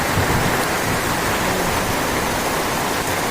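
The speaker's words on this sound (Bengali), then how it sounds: "দেখতেই পাচ্ছ তোমরা কেমন বৃষ্টি হচ্ছে" Dense, constant rushing of heavy storm rain at night, loud and unbroken, with no voices.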